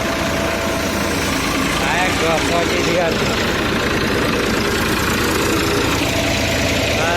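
A heavy diesel tractor engine idles on a farm during paddy harvesting with a steady low chugging rumble throughout, loud and close, while people talk briefly over it.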